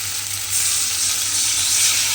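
Bhola fish cooking in a pan with spice masala, a loud continuous frying hiss with a low hum underneath, steady and close.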